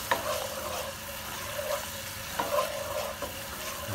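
Lemon butter sauce with a little ginger simmers in a pan, giving a steady soft bubbling sizzle with occasional louder pops and stirring sounds, close and moderately quiet, with no talking.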